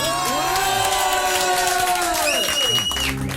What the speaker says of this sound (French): Non, ça c'est des applaudissements, je voudrais un triomphe.